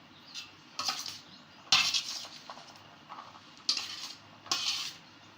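A spoon stirs aloo chana chaat ingredients with lemon juice in a bowl, giving a series of soft scraping and clinking strokes at an unhurried rhythm, close by and quiet.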